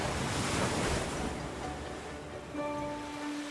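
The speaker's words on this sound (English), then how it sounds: "the ocean." A soft, continuous ocean-wave rush as if from a seashell held to the ear, a broad steady hiss fading slightly, with a faint tonal chime entering near the end.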